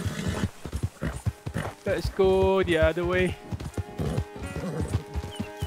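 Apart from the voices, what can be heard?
scared horse in video game Red Dead Redemption 2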